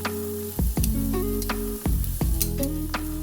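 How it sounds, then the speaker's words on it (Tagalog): Onion frying in coconut oil in a pan, a steady close sizzle broken by several sharp spatula scrapes and taps as it is stirred, with no talk. "lulutuin lang natin ng madali itong ating sibuyas na pandagay sa ibabaw"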